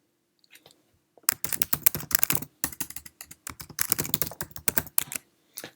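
A password is typed on a computer keyboard on a Mac, with close, crisp key clicks in irregular quick bursts after a short quiet start and no talking.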